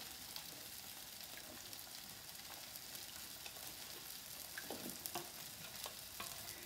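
Mushrooms being stirred in a pan for smothered pork chops, a steady soft sizzle with scraping spoon strokes and a few sharper clinks near the end, moderately close and without talk.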